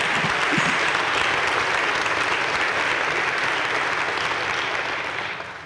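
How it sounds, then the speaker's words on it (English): Audience applause at an honors convocation ceremony, a full, even wash of many people clapping that stays loud and then begins to taper off at the end. "Could we give him a round of applause, please?"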